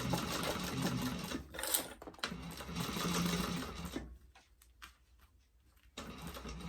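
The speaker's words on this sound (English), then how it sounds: "Be sure to backstitch. Closing up that top opening where we turned it." Sewing machine stitching closed the top turning opening of a fabric convertible backpack, running in steady motor bursts with a brief pause and restart near the end, close and fairly loud.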